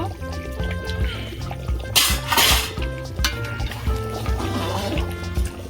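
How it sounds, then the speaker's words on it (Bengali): A lid being put on and lifted off a pot of mutton curry, with metallic clanks and a brief bright clatter partway through, loud and close over a steady low kitchen hum, with no talking. "আবার আমি ঢাকা দেব ঢাকা খুলে নেব"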